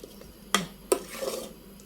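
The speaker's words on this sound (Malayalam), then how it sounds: "ഇത് നമുക്ക് ഇതായിട്ട് ഇളക്കി യോജിപ്പിക്കാം." A spoon stirs pumpkin and green gram curry after ground paste is added, with two distinct scraping knocks against the pot and softer rubbing strokes between them, close and fairly quiet.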